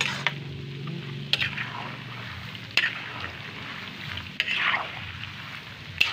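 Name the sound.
stirring peanut butter mixture while cooking in a pan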